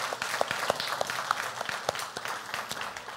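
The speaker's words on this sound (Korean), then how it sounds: "큰 격려의 박수로 함께 축복하겠습니다" A church congregation claps in warm applause of encouragement after a week of work, a dense, steady patter of many hands with a few sharper nearby claps standing out, all the way through.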